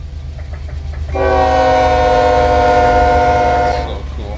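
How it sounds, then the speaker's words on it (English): Passing train in the Run8 rail simulator on the Barstow route, with a loud, sustained multi-tone horn blast lasting close to three seconds over a steady rumble of rolling cars. "Oh, train."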